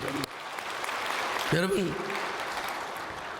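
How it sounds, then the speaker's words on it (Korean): Congregation in a Korean church applauding during a sermon, a steady wash of clapping filling the room while a voice speaks over it. "그냥 박수 한번 해주세요."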